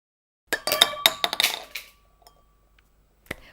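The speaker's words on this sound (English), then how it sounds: "Now I will flick the plate with my finger with one clean motion." A plastic plate flicked off the top of a drinking glass with one quick finger motion, followed by a burst of close, bright clinks and clatter as a ball drops into the glass and rattles, then settles, with one last small tap.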